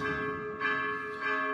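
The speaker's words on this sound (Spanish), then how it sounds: "de fondo cohetes y repique de campanas" Church bells peal steadily in a festive ringing for a religious procession arriving at a temple in Sahuayo, Mexico, with fireworks in the background, the bell tones swelling twice and sustained throughout.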